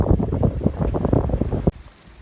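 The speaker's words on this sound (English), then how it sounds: "Looks really warm, but the breeze is pretty chilly." A chilly beach breeze buffets the microphone in rough, gusty rumbles for nearly two seconds, then cuts off abruptly into quiet.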